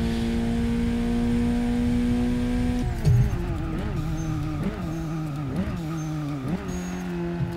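A Volkswagen R hatchback's engine revs loud and close on a track, the pitch climbing through gear changes with brief dips and a short burst of tire noise partway through.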